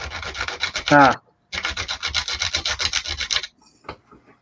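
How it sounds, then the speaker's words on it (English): Abrasive rubbing as a screw head is sanded off, a steady rasping scrape in two close, loud bursts separated by a short pause, ending in quieter clatter. "Just going to be sitting over here sanding off a screw head."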